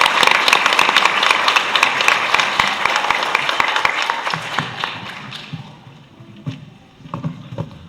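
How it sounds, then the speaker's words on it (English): An audience at a school district board meeting breaks into loud, sustained applause, many hands clapping densely before thinning out into a few scattered claps near the end. "Let's give her a round of applause."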